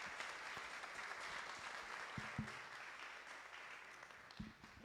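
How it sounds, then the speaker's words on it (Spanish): Audience applause at a presentation of Veracruz women mayors in a town council chamber, a steady wash of many hands clapping at moderate volume, continuous throughout with a few sharper individual claps near the end. "Un aplauso para Mabel Aceret Hernández Meneses."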